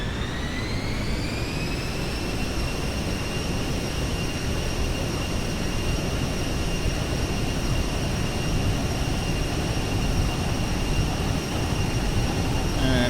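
Simulated airliner engines spool up to full takeoff thrust in X-Plane 11, a loud, steady jet roar with rising turbine whine tones that level off and hold throughout.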